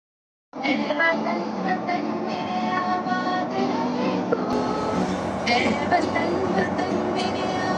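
A metro train runs with a steady, loud rumble and rolling noise from inside the car, and people talk over it throughout.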